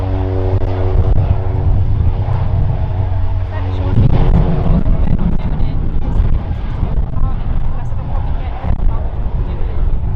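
A plane passes at an outdoor airshow, a loud broadband engine roar with a droning hum that swells and lingers amid crowd noise and wind.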